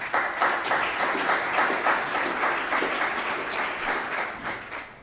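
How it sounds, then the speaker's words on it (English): Attendees at a sustainable forestry forum applaud the panel, with steady crowd clapping in which individual claps stand out and which tapers off near the close. "So a round of applause for our panel."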